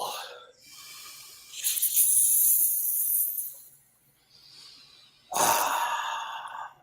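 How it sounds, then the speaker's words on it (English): A slow, deliberate breath drawn in and let out during a guided meditation, with soft airy inhales and exhales rising and fading across several seconds, close and quiet, with no talking over it. "Deep breath."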